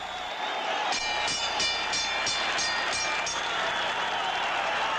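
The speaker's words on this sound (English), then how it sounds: "Crowd on its feet. Look at the crowd." Boxing arena crowd on its feet during a Marvin Hagler vs Vito Antuofermo fight, a broad roaring wash of cheering with rhythmic claps or thumps, distant and steady, with a commentator's voice beneath.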